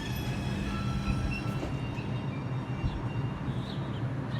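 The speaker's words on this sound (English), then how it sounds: "This is a Manhattan-bound 2 train." A Manhattan-bound 2 train on the New York City subway runs through Bronx Park East station with a steady rumble, rail noise and faint wheel squeals, fairly close and with no talk.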